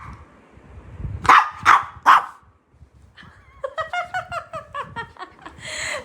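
A pet dog barks three loud, close times indoors, followed by a run of quick laughter-like sounds.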